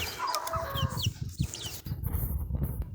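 Close chicken clucking in short repeated bursts, with higher chirps and other birds calling in the background, at a rice-field hut in the dry season.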